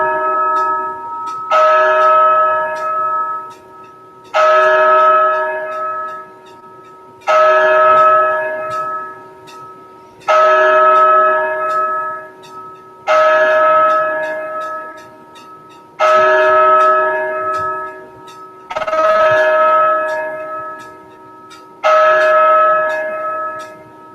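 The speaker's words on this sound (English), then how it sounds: "let's see if I can get this going for the 10-bell moment of silence here" A single bell tolls slowly and steadily for a ten-bell moment of silence, eight loud, resonant strikes evenly spaced, each ringing out fully before the next, with no voices.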